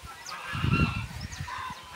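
A turkey on a farm in Goiás gives a loud, close gobbling call lasting about a second, with nasal honk-like tones trailing off against faint outdoor background.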